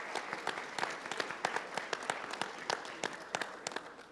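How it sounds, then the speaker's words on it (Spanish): Dinner event audience giving applause, a thinner crowd with distinct individual claps standing out in a steady rhythm over a soft wash of clapping throughout. "Por favor, un fuerte aplauso."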